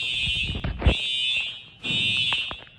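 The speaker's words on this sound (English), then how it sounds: "there's a fire alarm" An indoor fire alarm blares in loud, shrill bursts, dropping out briefly and starting again, with muffled knocks and handling noise between the tones.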